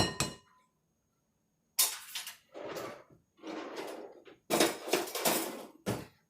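Kitchen utensils clink and rattle as a small Dollar Tree whisk is fetched while a hamburger potato cheese casserole is being prepared, in several short bursts of metallic clatter with brief pauses between, fairly close and without talk.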